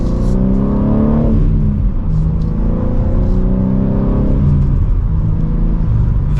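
Manual 2023 BMW M3 accelerating hard from second gear, heard from inside: a loud, rising engine roar that climbs, drops at a shift, and climbs again through another gear change.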